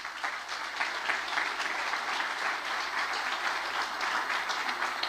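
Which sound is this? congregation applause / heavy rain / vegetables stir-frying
congregation applause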